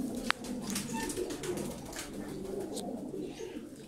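Breeding tumbler pigeons coo close by, with soft repeated throaty calls and a few brief chirps over a low background murmur.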